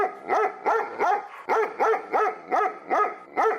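A dog barks repeatedly in a steady rhythm, about two sharp, loud barks per second, close by with no other sounds.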